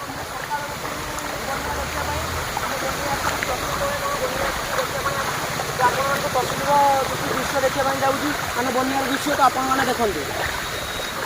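Rising floodwater pouring across a village road during an August flood, a continuous broad rushing wash heard steadily under people talking nearby.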